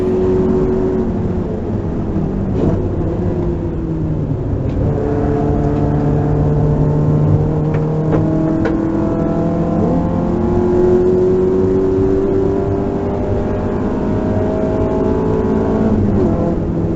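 Close, loud Nissan SX race car, its engine rising steadily in pitch as it accelerates hard out of a corner on a circuit with a locked differential, with gear changes and no talk.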